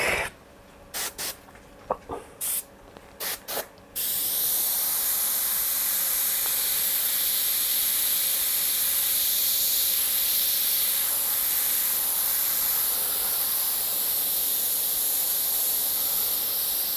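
An airbrush sprays black paint onto an Ayrton Senna portrait painting, first in a few short bursts and then as a steady, close, continuous hiss with no talk.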